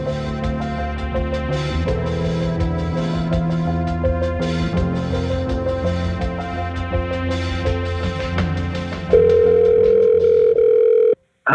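Telephone line sounds play loudly and alone: a busy stretch of layered tones and clicks, then a steady, sustained single dial tone holding for a couple of seconds before cutting off abruptly.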